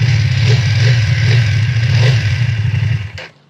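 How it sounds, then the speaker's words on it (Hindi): A Hero Karizma XMR inline twin-cylinder motorcycle engine runs loud and close with a steady low throb and a slight throttle rev, then cuts off abruptly near the end. "इनलाइन ट्विन सिलेंडर इंजन है इसमें। और अगर इसका हल्का सा थ्रॉटल देता हूँ"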